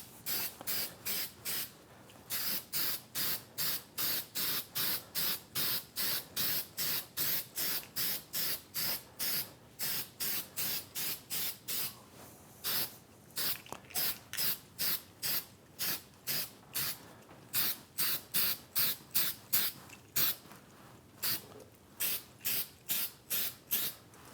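An aerosol can lays an even coat onto stainless steel ahead of laser engraving, heard close up as dozens of short rhythmic spray bursts with brief pauses between them.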